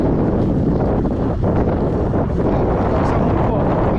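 Strong wind buffets the microphone on a mountain bike ride along paved roads near Fontenay-en-Parisis, east of Paris, with the wind at the rider's back, giving a loud continuous rushing roar.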